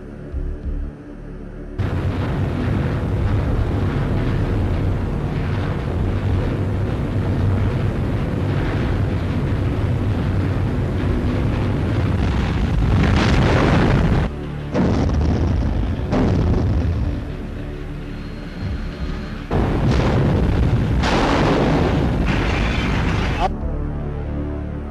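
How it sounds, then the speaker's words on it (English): Deep, heavy booming World War II depth charge explosions roll one after another, loud and rumbling, with a few sharp bursts standing out near the end. "would be followed by the explosions of depth charges."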